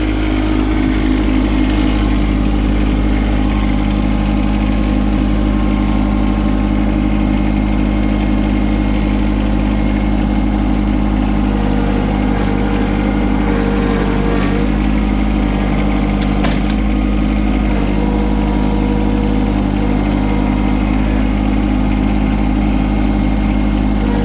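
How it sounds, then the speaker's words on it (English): A tractor engine runs steadily throughout, a loud continuous low idling drone with a constant hum and faint mechanical rattles, close to the listener, with no talking. "I don't know how much the tractor noise is going to happen."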